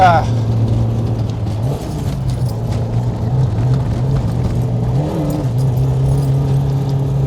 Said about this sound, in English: Hope you guys heard that oversteer.